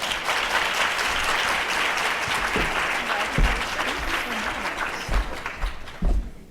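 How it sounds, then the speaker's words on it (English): A round of applause from guests at a bar association women's committee scholarship tea, steady clapping throughout with a few louder thumps near the end. "Let's please give her a round of applause."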